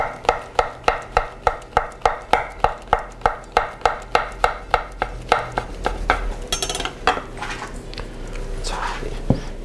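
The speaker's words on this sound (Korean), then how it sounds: "다져주시면 됩니다. 양송이도 다져주시고요." A knife minces button mushrooms on a cutting board: a rapid, even series of close, crisp chops that loosens into irregular clatter and scraping near the end.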